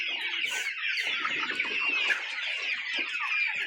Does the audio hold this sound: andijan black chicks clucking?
yes